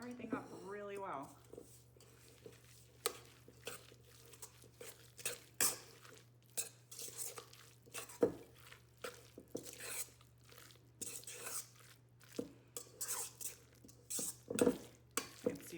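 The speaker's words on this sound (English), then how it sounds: "And then I've got the mayonnaise, the Duke's brand mayonnaise. Put all the mayonnaise, and then we're gonna stir everything up really well" Chicken salad is stirred with Duke's mayonnaise in a bowl, producing soft, wet, irregular scraping and squishing strokes at close range, with quiet background hum.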